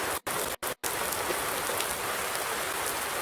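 Continuous rain pattering on surfaces in a Farming Simulator 19 farm scene, a steady soft hiss broken by three brief dropouts near the start, then even and uninterrupted, with no talk.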